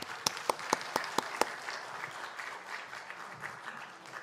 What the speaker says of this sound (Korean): 한번 박수로 맞아주세요